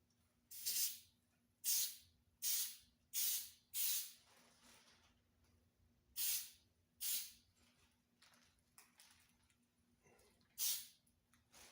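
A guitar body gets a light second coat of finish from a spray can, heard as about nine short, faint hissing bursts at uneven intervals with quiet pauses between them.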